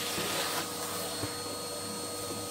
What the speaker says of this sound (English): The old suction of the hoover is a bit powerful now.